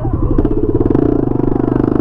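A Honda XRE 300 motorcycle with its exhaust removed runs loud and close, a raw, rapid pulsing bark that holds steady for a couple of seconds with no voices over it.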